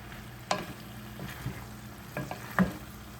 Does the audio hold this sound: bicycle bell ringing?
no